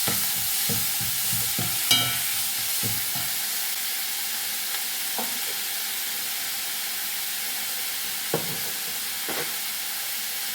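Tomatoes sauté in a pan for a lady's finger curry, with a continuous close sizzle and a cluster of stirring clatters early on, followed by a few isolated scrapes.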